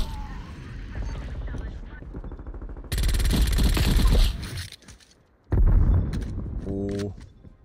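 Gunfire in Call of Duty: Black Ops Cold War, loud close bursts of automatic shots with short gaps between them, a mechanical reload-like click, and game effects at the end.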